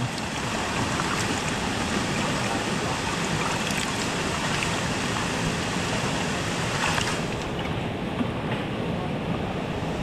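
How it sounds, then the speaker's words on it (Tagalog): Strong flowing water rushes while people dig in sand, a loud, unbroken wash of noise that holds steady throughout with a slight dip near the end. "Sobrang ano po, sobrang lakas ng tubig"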